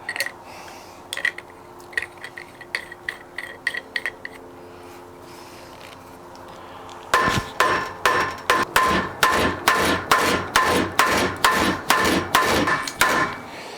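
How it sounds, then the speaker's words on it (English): A bullet is pulled from a 7.62x39 cartridge case with a kinetic hammer-style puller: a run of sharp rhythmic knocks, sparser and lighter at first, then a pause, followed by a steady series of louder, heavier raps. "So we're going to go ahead and pull the bullet."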